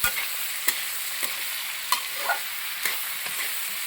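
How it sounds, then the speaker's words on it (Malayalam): Mixed vegetables for a vegetable kurma fry in a pan with a constant close sizzle, while a spoon stirs them with soft scrapes and taps every second or so. "ഓരോന്ന് ഇട്ട് കൊടുക്കുമ്പോൾ നന്നായിട്ട് തന്നെ ഇളക്കിയും കൂടെ കൊടുക്കണം"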